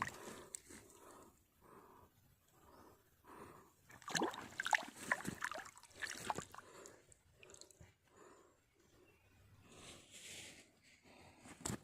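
A dog close by gives a run of short yelps and whining bursts, loudest in the middle, mixed with rustling and shuffling noises.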